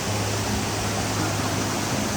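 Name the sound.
waterfall in Sinharaja rainforest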